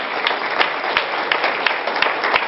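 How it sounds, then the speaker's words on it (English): A crowd applauds at a political endorsement celebration in Putnam County, a loud, continuous wash of clapping with scattered sharper claps throughout. "come on, big round of applause there"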